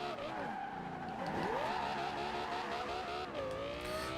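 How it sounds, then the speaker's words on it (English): A tuned all-wheel drive car drifting produces sustained tire squeal with sweeping engine revs, loud and continuous without a break. "That car is now tuned and ready to be drifted."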